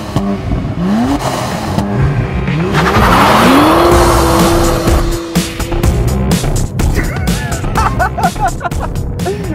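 A BMW 1 Series M Coupe with 450 Nm of torque from 1500 rpm accelerates hard, its engine note climbing loudly in pitch while the tires squeal and skid, close up and dominant.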